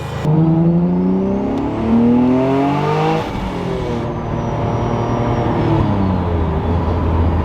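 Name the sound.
700 hp V6 AWD Honda Civic accelerating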